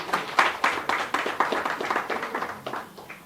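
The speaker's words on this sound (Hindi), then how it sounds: "जोरदार तालियां हो जाए हमारे जजेस के लिए।" An audience at a student poetry recitation event claps for the judges, a dense burst of many hands applauding together, fairly close and steady before gradually thinning out.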